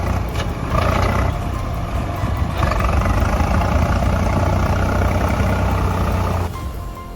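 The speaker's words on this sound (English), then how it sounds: "Swaraj 855 buries itself in sand on purpose. Now it's pulling itself out, no help, just raw power." A Swaraj 855 tractor strains to pull itself out of sand it is buried in, its engine a loud, steady, close low roar that holds for several seconds before easing off near the end.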